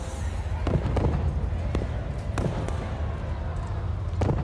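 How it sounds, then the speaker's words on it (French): Fireworks crackle and pop in scattered sharp bursts at an amusement park with roller coasters, against a constant rumbling crowd-like background. "et même les feux d'artifice"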